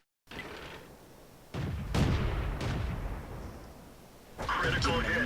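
An artillery shot booms in a tank video game, a heavy blast followed by lingering rumble and a later second burst of engine and explosion noise, with a voice likely talking over it.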